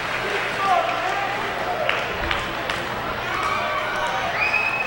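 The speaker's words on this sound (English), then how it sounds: "And they get a big hand from the crowd." Crowd at a high school basketball game applauds seniors with scattered clapping and cheers under an announcer's voice, moderate and sustained.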